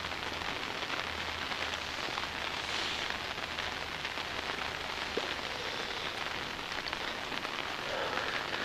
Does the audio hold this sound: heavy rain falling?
yes